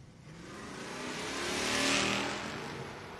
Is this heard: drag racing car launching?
yes